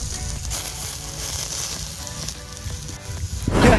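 Balut eggs sizzle and bubble while grilling outdoors, a continuous crackling fry sound with small pops, fairly close and steady, growing slightly louder at the end.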